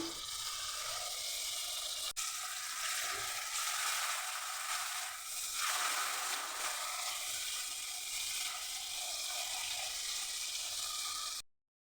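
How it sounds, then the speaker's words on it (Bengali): Spice mixture with ground cumin and a splash of water sizzles steadily in a hot pan for a soybean keema dish, a loud, continuous hiss that cuts off abruptly at the end. "মশলা কষাবার জন্য অল্প জল দিয়ে দিলাম"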